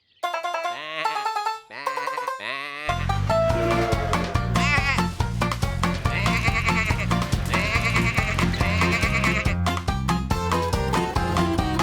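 Cartoon sheep bleat in short wavering calls, first alone, then repeatedly over bright, busy music that fills the rest of the scene.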